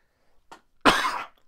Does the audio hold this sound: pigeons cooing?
no